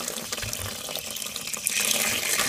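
Water runs steadily from a tap into a small bucket fed by a well pressure tank, a continuous splashing rush that grows slightly louder toward the end, close by with no talking.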